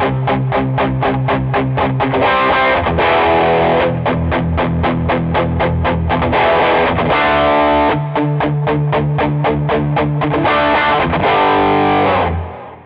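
Electric guitar played through a Carr Telstar amplifier with a Gravity pedal engaged, giving loud, distorted chugging rhythm chords in quick repeated strokes with short pauses and held notes, up close and alone.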